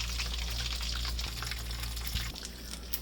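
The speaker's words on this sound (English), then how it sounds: "I'm gonna pour me some over my ice in here" Water poured from a container over ice in a home kitchen, a steady close pour with a continuous splashing rush that tapers slightly near the end.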